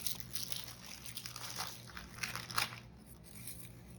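A sleeve of Ritz crackers crushed by hand for a casserole topping, faint close crunching and crinkling of the wrapper in irregular bursts.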